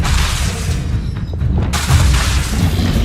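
Expelliarmus spell blast in Hogwarts Legacy combat, heavy booming bursts over a continuous loud roar, with a brief dip before the blast surges back at full strength.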